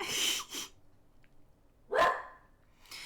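A dog barks in short bursts: two close barks at the start, another about two seconds later, and a fourth beginning at the very end. The barks are fairly near, with quiet gaps between them and no talk.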